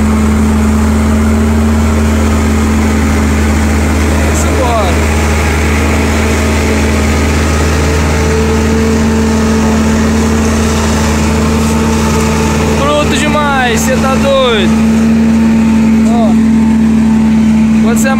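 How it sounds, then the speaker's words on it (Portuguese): A Massey Ferguson 4275 tractor engine drones steadily throughout with a strong low hum while cutting sorghum, people talking over it and occasional higher whines rising near the end. "Nosso amigo Zé Maria tá vindo aí, o trator Massey 4275, e já tá quase cheio também"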